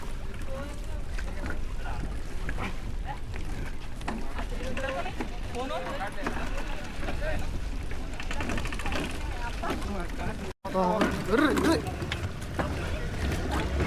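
Steady engine drone and rushing water of a boat moving along Chilika Lake in Odisha, with wind buffeting the microphone and people talking throughout.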